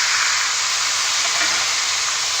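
Tomatoes hitting a hot pan while making restaurant-style butter chicken give a steady, close hissing sizzle that holds evenly throughout, with no talking.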